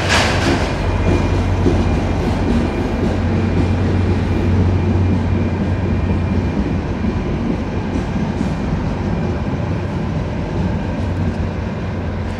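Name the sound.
diesel locomotive engine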